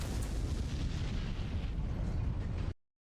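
A missile strike blows up an aircraft in a combat flight video game, heard as a dense, rumbling explosion roar that fills the clip before cutting off abruptly.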